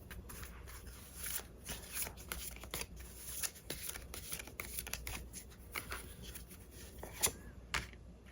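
Tarot cards are shuffled close by in a quiet room, giving soft, repeated riffling and sliding rustles with occasional sharper snaps.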